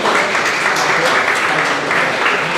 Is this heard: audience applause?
yes